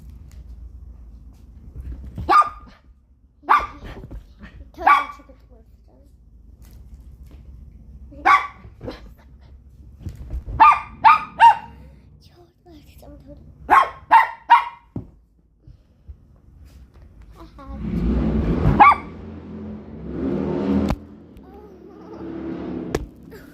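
A dog barks in sharp, loud single barks and quick clusters of two or three, spaced by short quiet gaps, followed by a stretch of rougher, noisier sound near the end.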